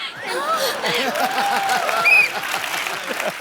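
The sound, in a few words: audience applause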